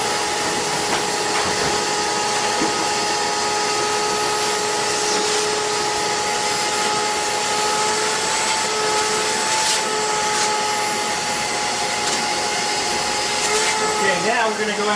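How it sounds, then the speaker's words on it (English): A vacuum cleaner drones loudly and steadily while cleaning the inside of a Bixby stove, with a constant whine and occasional bumps and scrapes of the nozzle against the stove. "We're going to vacuum the inside."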